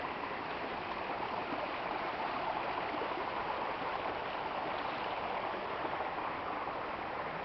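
A raging river rushes in a steady, dense roar of flowing water, continuous and fairly close, with no other sounds standing out.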